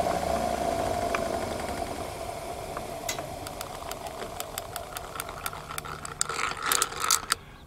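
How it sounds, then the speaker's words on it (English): An unbalanced trailer tire spins on a wheel balancer with a magnet fixed to one side, giving a steady mechanical whir with rhythmic ratchet-like ticks that grow quicker and louder as it speeds up. "As you go increase speed, see the vibration from that magnet that's on one side."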